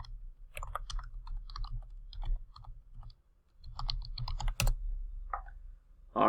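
Computer keyboard keys tapped at close range while entering login credentials, irregular bursts of soft clicks with short pauses, ending in a louder clack.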